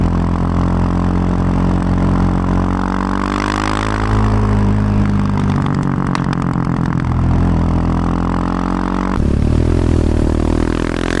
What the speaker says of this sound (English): Enjoy this rear shot and the sound of the exhaust.